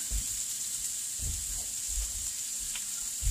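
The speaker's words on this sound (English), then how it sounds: "move it around and let it cook. It cooks evenly." Food frying in oil in a warm pan for keto meal prep, a steady low sizzle with soft bursts of stirring and scraping underneath, fairly quiet and close, with no talking.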